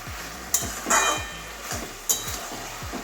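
Spices are worked together in a pan for a hilsa fish head curry with Malabar spinach, with a few scraping strokes and clinks over faint low sizzling, nearby and no talking.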